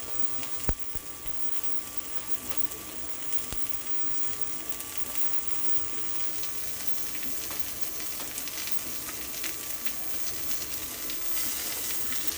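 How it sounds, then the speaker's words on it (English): Cheap choice sirloin steaks searing over high heat on a small stove, a dense, steady sizzle and crackle of frying fat running continuously, with a few sharp pops and no talking. "We want to sear them for a couple minutes."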